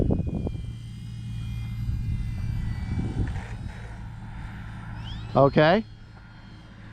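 An Arrows RC F4U Corsair model airplane's electric motor hums steadily through a sunny flight, with a brief word of speech at the start and loud wind buffeting on the microphone near the end.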